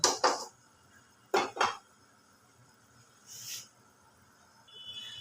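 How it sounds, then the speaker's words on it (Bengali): A frying pan shifted off a home stove and a wok (kadai) set down in its place while cooking an egg and potato dish: two pairs of sharp metallic clanks, then a faint scrape and a soft clink in an otherwise quiet kitchen. "এবার আমি ফ্রাইং প্যানটাকে সরিয়ে আর কড়াইটা বসিয়ে দিলাম"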